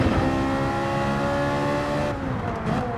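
A Gran Turismo 7 race car engine during an online daily race, a loud continuous close-up drone as the throttle is applied and then eased off, the tone shifting near the end.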